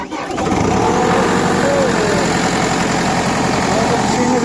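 A JCB backhoe engine turns over and catches after a fuse and battery wire repair, then settles into a loud, steady, close diesel idle with a low rumble that continues to the end.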